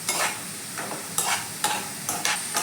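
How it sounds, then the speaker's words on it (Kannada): Onions fry in a pan for chicken masala, a bright sizzle broken by a regular series of stirring scrapes, about six strokes, close and fairly loud. "ನೀರುಳ್ಳಿ ಒಳ್ಳೆ ಫ್ರೈ ಆಗಬೇಕು"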